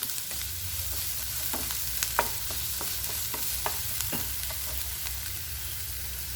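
Chopped onions sauté in hot oil for bread balls, a constant close sizzle punctuated by repeated light scrapes and taps of a stirring spoon against the pan, with no voices.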